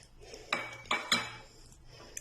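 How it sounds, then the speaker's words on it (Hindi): Chicken pieces are tipped into a prepared marinade and mixed in a bowl, giving three quick clinks of a utensil against the dish amid soft rustling, close and fairly quiet. "जो मैरिनेशन हमने तैयार की है उसके अंदर सारे चिकन को डाल देंगे।"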